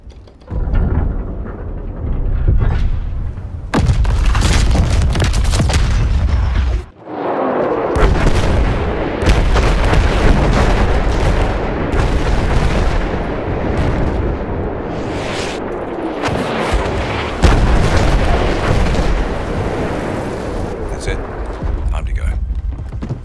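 Dreadnought artillery pounds a beach in the video game Battlefield 1, a dense, continuous roar of heavy booms and blasts rolling over one another at high volume, with only a brief dip in the barrage.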